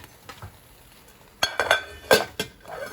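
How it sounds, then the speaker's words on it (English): A lid set onto a pot of potatoes barely covered in salted water, giving a few sharp metallic clinks and clatters up close in a quiet kitchen. "Put on our lid"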